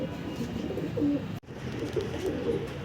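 Pigeons coo repeatedly inside a cardboard carton packed with three pairs of birds for shipment, soft and muffled with a brief dropout partway through.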